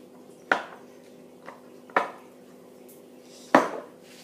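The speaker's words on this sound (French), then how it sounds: "Et on mélange une dernière fois." A skincare preparation being mixed in a bowl, heard as three distinct clinking taps of a utensil against the bowl plus one fainter tap, close and alone with no talking.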